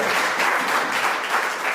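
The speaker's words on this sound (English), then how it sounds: "Warm round of applause, please, for that." A warm round of applause at a talk on under-utilised crops, steady, dense clapping from an audience filling the short stretch at an even level.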